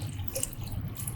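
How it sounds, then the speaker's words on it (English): Mineral water poured into the tank of a UV control box for a Focus Alpha Max 6250 printer, a soft continuous trickle and splash at low level with no talk. "We open the top cover and we fill with the mineral water."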